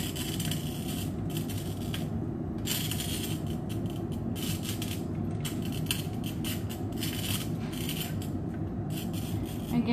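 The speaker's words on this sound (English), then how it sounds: "And if you can actually hear it right now, cutting the glass." A glass bottle rotated against the wheel of a bottle cutter while being scored gives a continuous gritty, rasping scrape. It is moderately quiet and steady, with brief rhythmic pauses as the bottle turns, and no one speaks.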